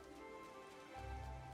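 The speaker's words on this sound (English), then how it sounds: "as we run around in the rain." Rain falls in the Disney Dreamlight Valley video game. It is a faint, steady patter under quiet background music, with no one speaking.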